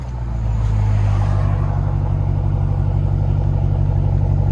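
A Dodge Charger 5.7 Hemi V8 with an AWE exhaust idles steadily, a deep rumbling engine with a throaty exhaust burble, close and loud, no voices.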